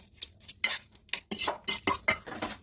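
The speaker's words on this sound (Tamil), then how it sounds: "இப்போ இது ரெண்டையும் சேர்த்து நல்லா திருப்பி கலக்கி விட்டுருங்க" A metal utensil scrapes and clinks against a pan while potato and sausage are mixed, giving a run of sharp, uneven strokes with quiet gaps between them; no talking.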